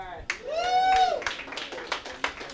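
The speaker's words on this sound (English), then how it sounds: "Can I get a round of applause?" A small open-mic comedy audience in Las Vegas gives scattered, sparse clapping, mixed with a prominent voice calling out loudly.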